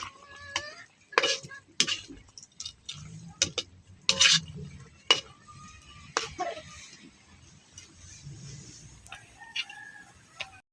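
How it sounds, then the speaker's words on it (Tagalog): A spoon stirs chicken adobo with potatoes in a pot, giving close, irregular clinks and scrapes in short bursts with quiet gaps between them. "Halu-haluin lang natin."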